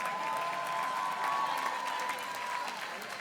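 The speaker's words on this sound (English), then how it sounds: "Let's give a round of applause for all of our Public Diplomacy graduates." An audience applauds graduates of a public diplomacy program at a commencement ceremony, a steady wash of clapping from a crowd that holds at a moderate level for a few seconds.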